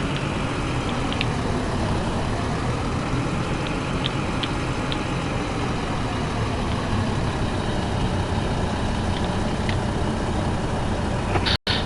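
Steady, loud engine drone of a tractor in the farming game Professional Farming 2017 at night, running continuously with an even low rumble and little change.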